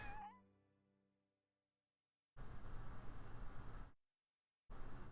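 A video-game kitten lets out a short meow that fades, then after a silent gap comes a burst of harsh hissy noise, another pause and more noise.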